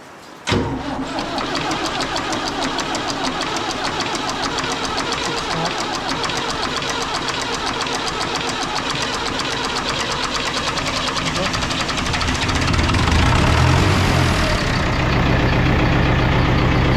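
A David Brown 996 tractor with a slightly flat battery cranks and fires, then its diesel engine runs loud and close with a steady rough clatter, rising a little in pitch and volume toward the end.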